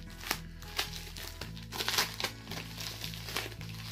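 A plastic mail package is torn and pulled open by hand without scissors, with close, irregular crinkling and crumpling over a low steady hum.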